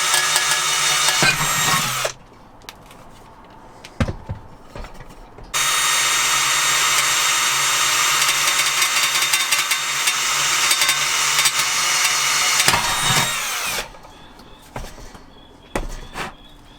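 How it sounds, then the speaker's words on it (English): Power drill with a 4mm bit boring in two long bursts of steady high whine, separated by short pauses with clicks and handling noise, close and loud. "Okay, and that is a 4mm drill."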